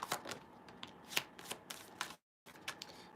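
Tarot cards are shuffled and laid down in a run of crisp, close riffles and slaps, broken by a brief silent gap before more card handling.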